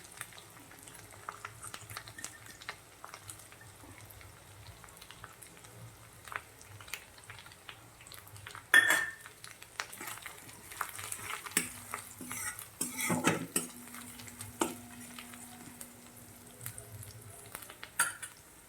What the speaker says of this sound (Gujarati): આપણે જે લીલું લસણ સમારેલું હતું તે નાખી દઈશું